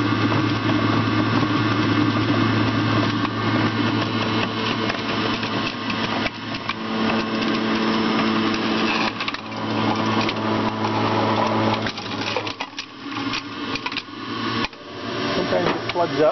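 Breville JE98XL juicer grinding homegrown apples: a continuous motor hum and whir with grinding texture that fluctuates and dips in intensity toward the end, heard close under a person talking throughout.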